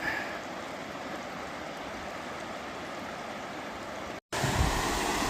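Waterfall feeding a mountain stream at a trail water crossing, a steady broadband rushing roar throughout, close and constant, with a brief cut near the end.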